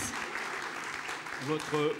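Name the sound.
applause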